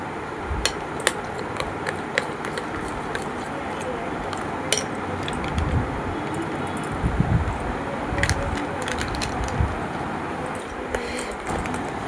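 A spoon mixes milk powder into a curd mixture in a bowl for homemade mango yogurt, giving steady scraping with scattered light clinks against the bowl over a low background hum.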